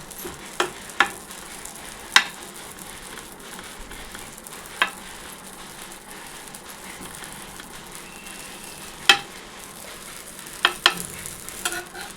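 A potato omelette sizzling softly in a pan, with a low continuous fry under occasional sharp clinks and scrapes of a spatula as it is turned.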